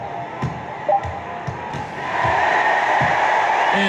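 A virtual arena crowd in the NBA 2K21 basketball game, starting as a low murmur with rhythmic ball thumps, then swelling into a steady, loud cheering roar.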